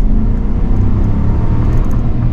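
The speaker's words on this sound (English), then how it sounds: "let's get out here and just do a quick little acceleration test" A 2023 GMC Sierra 1500 Denali pickup accelerates in traffic, a deep close engine rumble that stays loud and steady for a couple of seconds, with no talking over it.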